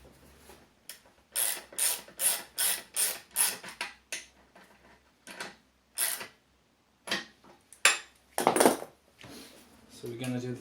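A ratchet tightens a bolt on the rear assembly of a Suzuki Intruder Volusia VL800 motorcycle in a workshop, with rapid bursts of metallic clicking separated by pauses and a few clanks of tools.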